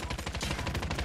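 Rapid automatic gunfire in a video game, a fast steady rattle of shots packed closely together, fairly faint and heard on its own.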